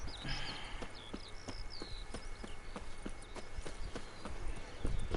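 Roach the horse's hooves in The Witcher 3, a steady rhythmic clip-clop of trotting fairly quiet under ambient birdsong.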